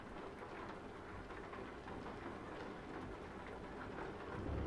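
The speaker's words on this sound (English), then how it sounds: "Have they added simulation for rain?" Rain in the truck driving game Euro Truck Simulator 2, a steady dense hiss of falling rain with a low rumbling undertone, continuous and fairly even throughout.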